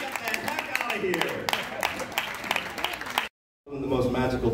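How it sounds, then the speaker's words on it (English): Audience applause at a live magic and comedy show, steady clapping that cuts out abruptly, followed by a voice speaking. "Big round of applause for him."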